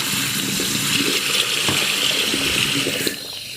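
A cup held under a running hot-water tap, a steady broadband gush of water splashing continuously, close and fairly loud, with a small knock near the end.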